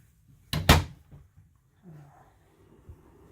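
A storage drawer in a 2015 Forest River Sandpiper 378FB RV shuts with a short double thud close by, followed by soft faint knocks and quiet rustling.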